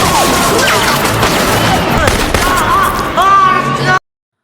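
Gunfire from a bank robbery action film scene, a loud dense burst of rapid shots and impacts with shouting voices mixed in, ending abruptly in silence.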